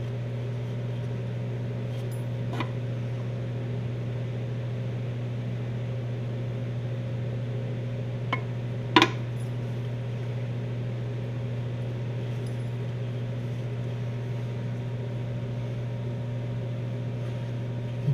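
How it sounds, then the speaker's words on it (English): A small electric motor, freshly oiled at its dry armature bearing, runs with a steady low hum and faint whine, broken by a couple of brief ticks and clicks. "Feel the motor turning freer already."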